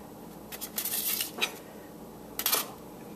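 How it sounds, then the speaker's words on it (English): A spatula and fork clink and scrape against a baking pan while oven-baked sweet potato fries are flipped, two short clusters of metallic taps, close and fairly quiet, with no talking. "so I'm thinking this spatula and fork might work pretty well. I'm just going to flip them over"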